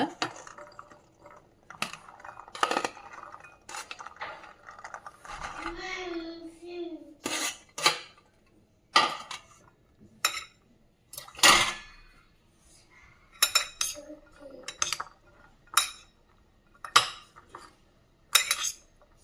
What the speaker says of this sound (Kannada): ಈಗ ನಾನು ಬೌಲಿಗೆ ಹಾಕ್ಕೊಳ್ತಿದ್ದೀನಿ ಬೇಯಿಸಿರೋದೆಲ್ಲ